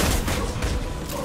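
Gunfire in Mass Effect 2 comes as a brief, dense volley of booming shots and impacts at steady loudness, with no talk.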